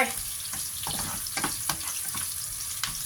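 Pieces of blanched fish stir-fried with green peas in a hot pan give a steady close sizzle, broken by several sharp scrapes of a spatula at uneven intervals.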